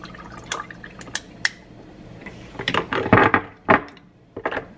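Liquid splashes and trickles into a cup in short bursts, with clinks and drips between pours, close by and fairly loud.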